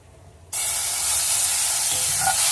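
Liquid for a pot roast milk gravy hits a hot pan and sets off a sudden loud sizzling hiss. The hiss stays steady and close for the rest of the moment, with no talking.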